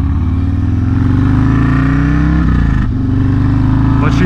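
A motorcycle engine on new tires runs loud and close, with rising and falling harmonic revving and a brief dip before it climbs again, dominating the whole stretch.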